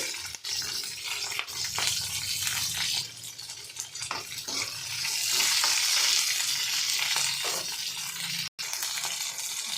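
Green chilies dropped into hot oil for palak pachadi, a loud continuous sizzle and crackle with occasional stirring scrapes, no voices.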